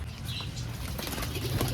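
A Qasid pigeon flaps its wings in a quick fluttering burst, close by against a steady low background rumble.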